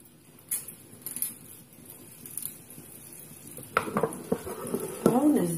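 Oliebollen dough dropped into hot oil and frying, a soft steady sizzle with spoon clinks and scraping against a pot, rising to louder bubbling bursts toward the end.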